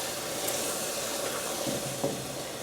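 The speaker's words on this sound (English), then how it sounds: "it's going to bubble up. That's why I use a deep pan to do this. And now I'm going to start stirring this a little bit." Caramel sauce bubbles and hisses in a deep pan while being stirred, a steady dense sizzle with a few faint scrapes of a long-handled spoon, at moderate level and with no talk.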